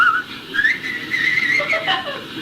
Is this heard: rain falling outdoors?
no